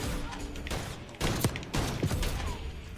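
Sniper fire in a multiplayer shooter game, sharp shots cracking out at about 1.2, 1.7 and 2.1 seconds over constant battlefield gunfire and game noise.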